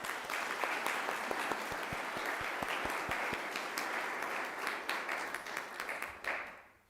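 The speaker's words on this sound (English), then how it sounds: "let's give a round of applause for those people" A crowd at a Court of Honor ceremony gives a full round of applause, dense and sustained, then thins into a few scattered claps before fading out at the end.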